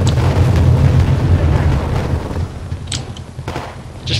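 Loud, dense video-game gunfire and explosive booms roll continuously through the first half, then thin into scattered sharper shots and lighter impacts.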